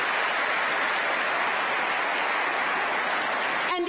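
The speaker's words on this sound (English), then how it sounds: "Please give yourselves a resounding round of applause." An audience at MWC Kigali, Rwanda, breaks into loud sustained applause, a thick continuous roar of many hands clapping that stays steady throughout before cutting off abruptly.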